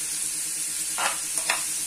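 Onions sizzle in hot oil with salt for pepper chicken gravy, a steady close frying hiss with two short scraping stirs of a spoon against the pan near the end.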